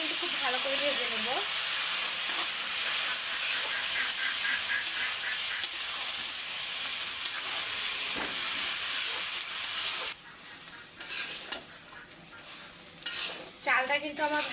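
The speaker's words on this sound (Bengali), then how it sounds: "চালটা কিন্তু খুব ভালো করে ভেজে নেব।" Rice for pilau being fried in a wok (kadai) sizzles steadily and close by, with repeated scraping stirs of a utensil. The frying quiets toward the end as more stirring clatter breaks through.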